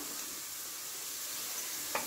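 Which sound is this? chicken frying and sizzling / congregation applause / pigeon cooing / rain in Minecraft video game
chicken frying and sizzling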